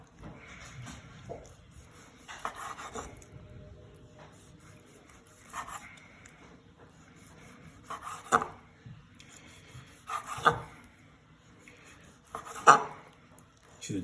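A knife slices through a cooked steak on a plate, making soft, intermittent scrapes and light clinks against the dish, with short pauses between the cuts.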